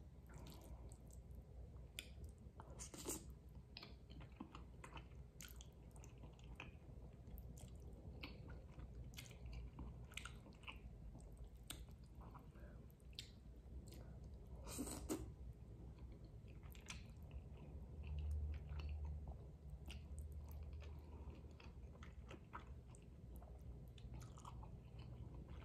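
Carbo fire noodles with an egg being eaten mukbang-style: soft, wet chewing and squishy bites sound close to the microphone, quiet and intermittent, with a few sharper clicks and no talking.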